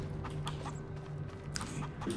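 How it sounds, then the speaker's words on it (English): Chickens cluck in short, scattered bursts in a coop over a steady low hum and soft background noise, farm ambience from Farming Simulator 25. "Got a little chicken coop here with 5 chickens in it"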